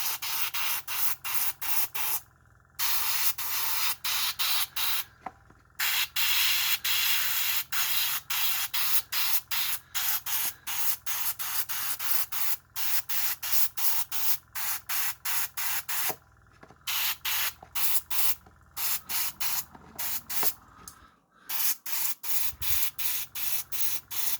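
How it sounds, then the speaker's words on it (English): An airbrush sprays thick paint on a miniature model in many short hissing bursts of varying length, separated by brief silent gaps, close and fairly loud. "the particles of the paint are so thick that they just clog the airbrush straight away"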